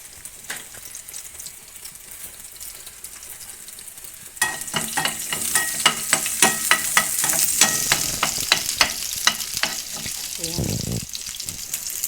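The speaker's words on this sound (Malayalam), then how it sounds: "ഇതിലേക്ക് ഞാൻ വെളുത്തുള്ളിയും ചെറിയുള്ളിയും ഒക്കെ ഇട്ട് കൊടുത്തിട്ടുണ്ട്." Garlic and small shallots sizzle in hot oil for a vegetable sambar, first a low steady crackle, then a sudden louder burst of frying with dense spitting pops and occasional stirring scrapes.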